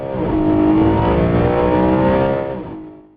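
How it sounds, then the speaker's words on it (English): A loud high-revving cross-plane V8 engine revving hard, its pitch climbing and holding high before dropping off as the throttle closes. "created the highest revving cross-plane V8 of all time"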